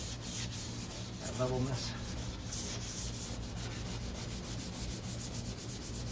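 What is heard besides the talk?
sanding Corvette deck lid with 400 grit sandpaper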